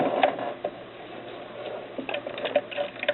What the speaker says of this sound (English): When you get down to the end, back stitch again,